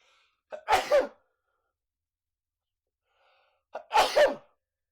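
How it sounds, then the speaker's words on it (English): Two loud sneezes, each preceded by a short intake of breath, separated by a few seconds of silence. "I'm totally going to sneeze."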